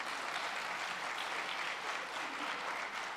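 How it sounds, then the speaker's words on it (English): Audience applause at a panel event on Michigan's blue economy, a soft, even wash of clapping heard from a distance, steady throughout. "Yeah, well-earned applause."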